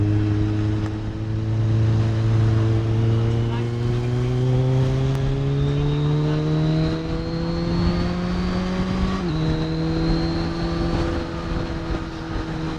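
A motorcycle engine under way while riding to a Kawasaki dealer, a steady droning hum with pitch rising smoothly and a gear-change dip near the end, continuous and close, with someone talking over it.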